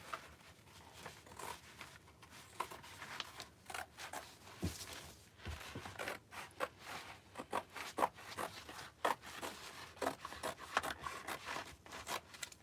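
Scissors cut through canvas for a DIY Easter sign, making a series of close, quiet crisp snips and scraping rasps in an uneven rhythm, with no talking.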